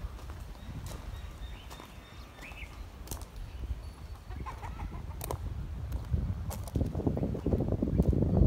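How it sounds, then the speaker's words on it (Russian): Faint clucking of chickens in an outdoor setting, with scattered clicks and thumps and a low rumble growing louder toward the end. "Как всегда, курицы и петухи."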